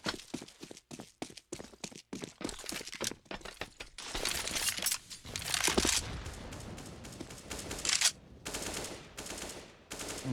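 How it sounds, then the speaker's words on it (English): Gunfire in Counter-Strike: Global Offensive during a match on the Cache map, with a rapid run of sharp single shots followed by a denser, sustained burst of rifle fire and clatter, fairly loud and without speech. "How did Alex manage a wallbang there? I guess he started moving just before he shot."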